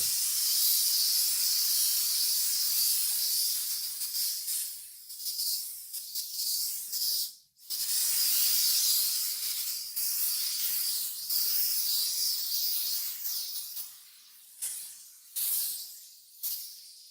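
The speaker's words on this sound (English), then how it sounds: "look how much steam that puts out too" A steam cleaner blasts steam onto a chair in a steady, loud hiss that runs almost without a break, with one brief pause and a few short gaps near the end.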